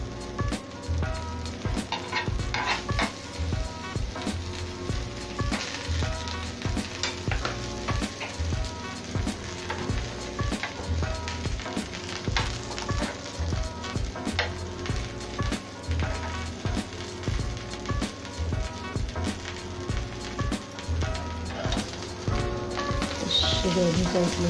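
A chapati frying in butter on a pan until crispy, a steady close sizzle with a repeating scraping and tapping rhythm of turning and pressing, and a voice talking over it.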